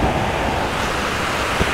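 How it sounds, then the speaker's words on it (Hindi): A big waterfall in the mountains of Arunachal Pradesh roars as a dense, continuous wash of broadband noise, loud and unbroken throughout the short stretch. "it's a big waterfall"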